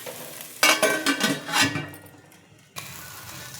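Peanuts fry and are stirred in a pan for upma, with a close burst of irregular rattling scrapes for about a second, then a softer frying hiss and a sharp clunk of the utensil.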